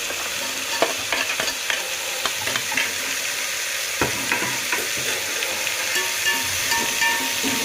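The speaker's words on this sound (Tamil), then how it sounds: "கேரட்டு, பீன்ஸ், நூக்கல் சேர்த்து வதக்கி விட்டுக்கலாம்." Carrots, beans and kohlrabi sauté in a pan with mashed tomato for a vegetable biryani. A steady close sizzle hisses throughout, broken by occasional sharp clinks and scrapes of stirring.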